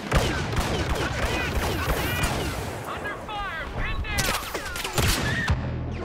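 Rapid bursts of blaster-style gunfire from a Star Wars Battlefront match crackle in dense, overlapping volleys, loud and close, with a sharper flurry of shots near the end.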